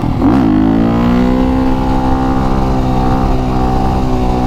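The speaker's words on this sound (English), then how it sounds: "Last wheelie of the day." Supermoto motorcycle pulling a wheelie, its engine roaring loud and close, rising in pitch at first and then holding a steady high drone for several seconds.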